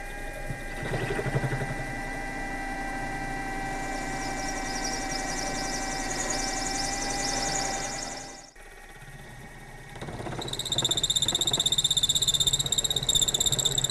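Machine motor driving a boring cut through a 3/4 inch hole, a steady rough mechanical drone that bogs down and stalls, a pause, then the motor restarts with a higher whine.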